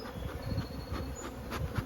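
Honeybees crawl over a hive frame of drone brood, giving a steady close buzzing hum that fills the clip with no one talking.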